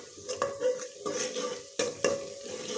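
Onions and garlic sizzle steadily as they brown in a hot pan while a utensil stirs and scrapes against the metal in a few distinct strokes.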